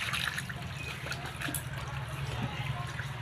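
Water trickles and splashes steadily as freshly caught local fish from a wetland, mostly chang and shingi, are handled in a basin, with a constant low churning layer and faint voices in the background.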